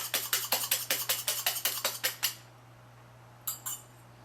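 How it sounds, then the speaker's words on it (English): A metal whisk beats ingredients in a bowl for buttermilk pancakes, making about fifteen quick, even clinks that stop abruptly, then two softer taps after a short pause, all over a low steady hum. "I'm going to beat them well with this whisk, like this"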